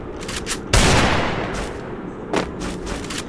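Video game gunfire showing weapon recoil after an update: a dense, sustained burst of rapid shots swells loudly, eases off, then another short burst follows, alone without talk.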